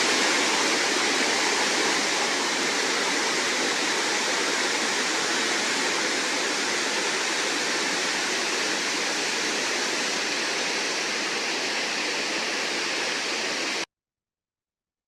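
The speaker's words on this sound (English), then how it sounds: "This lovely park has several waterfalls." Waterfalls at Tahquamenon Falls State Park, a tannin-brown river spilling over a wide drop, roar as a loud, steady, unbroken wash of rushing water throughout, no voices, ending abruptly.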